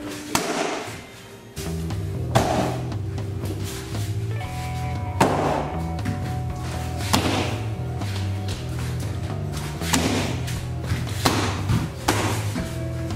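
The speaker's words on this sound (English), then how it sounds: "if I hit with the straight leg, like it's a different thud" Repeated heavy thuds of straight-legged karate kicks landing on a pad during sparring drills, struck at a steady rhythm close by over a constant background hum.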